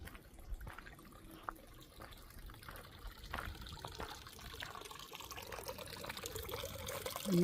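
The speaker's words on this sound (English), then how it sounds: "Water flowing away from Upper Grapevine Spring." Spring water flows away from Upper Grapevine Spring in Henry Coe backcountry, a steady, soft trickling and burbling that carries on evenly throughout with no voices.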